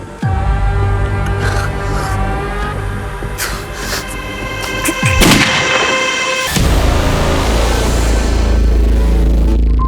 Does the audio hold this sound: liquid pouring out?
no